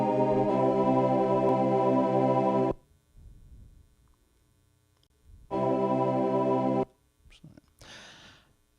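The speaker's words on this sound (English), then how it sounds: "the baritone goes up a semitone and the tenor voice goes down a semitone" Two voices, baritone and tenor, sing a sustained chord resolving as the baritone rises a semitone and the tenor falls one, in a street-quartet barbershop style; two held phrases separated by quiet gaps with faint background noise.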